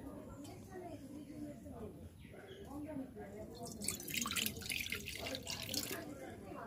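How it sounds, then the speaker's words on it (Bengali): Water poured into a kadai (cooking pan) set on a lit stove, a soft splashing trickle that grows brighter and louder in the second half, heard fairly close with faint background noise. "এবার কড়ার মধ্যে দিয়ে দেব কিছুটা জল।"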